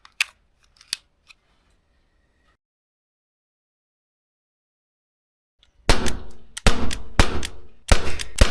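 A Gamo P25 CO2 blowback air pistol fires a series of sharp, loud cracks, each shot snapping close and clear with the clack of the blowback slide, spaced roughly half a second to a second apart after a long quiet pause.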